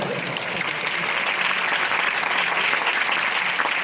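An audience at an anniversary event claps steadily, a loud, dense wash of applause that lasts throughout with no break and no voices over it.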